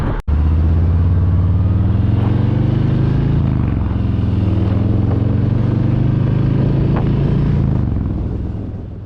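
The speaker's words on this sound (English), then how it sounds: "I'm trying to shout out with all the traffic going by on the side of the road" Roadside highway traffic roars past, loud and close, with a continuous engine rumble and vehicles swelling and fading as they pass, fading out near the end.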